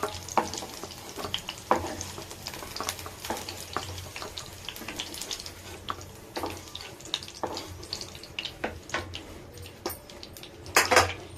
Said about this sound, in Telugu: ఇప్పుడు వంకాయలు వేయించుకుందామండి